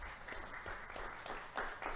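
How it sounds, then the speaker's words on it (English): Audience applause at a meet and greet with football coach Landon Bussie: a steady, even wash of many hands clapping for about two seconds, moderately distant and fairly soft, with a slight swell near the end. "Give yourselves a round of applause here."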